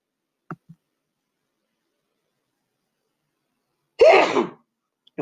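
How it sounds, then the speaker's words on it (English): One sharp, close sneeze bursts out after a stretch of near silence, preceded by a faint catch of breath. "I just sneezed."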